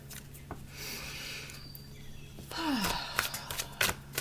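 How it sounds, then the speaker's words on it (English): A single deep inhale, audible as a soft, close breathy rush and sigh, mixed with faint background noise and a few small clicks. "let's take a deep breath in"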